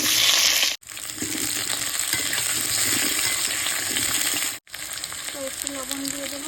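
Large-cut potato pieces fry in hot oil in a wok with a continuous close sizzle and crackle, two brief silent breaks, and light stirring clinks toward the end.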